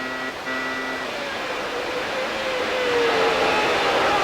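A 1996 Formula One car at the San Marino Grand Prix screams at high revs near 16,000 rpm, a steady, loud, distant-sounding whine that climbs gradually in pitch, with no voices present.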